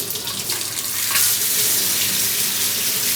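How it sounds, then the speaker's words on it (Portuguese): A makeup brush is rinsed bristles-down under strong running water from a kitchen sink tap, giving a loud, steady close splashing rush that swells slightly partway through, with no voice. "Então agora, ó, enxago, ó, o pincel tá pra baixo pra não entrar água."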